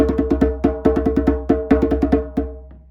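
Light djembe strokes in a quick, even rhythm, about a dozen soft hits with a brief pause in the middle, played alone and close.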